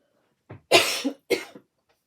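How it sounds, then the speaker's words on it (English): Someone coughs a few times up close, short harsh bursts in quick succession, then quiet. "Sorry, that little cough again."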